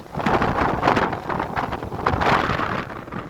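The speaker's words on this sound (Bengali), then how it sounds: "এই অবস্থা বাতাসের।" Strong wind buffets the microphone outdoors on a stormy day in England, a loud, roaring rush that surges and eases in gusts throughout, no one speaking.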